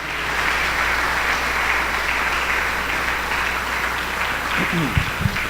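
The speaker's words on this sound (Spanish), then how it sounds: "dale un fuerte aplauso a Jesús, porque Él nos está hablando en esta mañana." Church congregation applauding during a Spanish-language sermon, sustained loud clapping from a large room that carries evenly throughout, with a few low thumps near the end.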